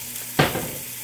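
Sausage hits hot olive oil in a heated pot and bursts into a sudden loud sizzle that settles into a steady crackling fry, close by with no voices.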